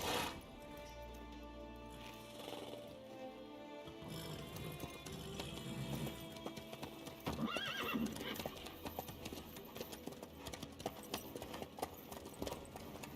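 A horse in The Witcher 3: Wild Hunt clip-clops along at a steady pace, its hoofbeats close and rhythmic, with a whinny and game music in the background.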